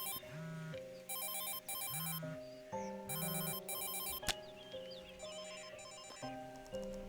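A phone ringtone rings out in repeated electronic bursts over a soft musical background, with a sharp click partway through, clear and close.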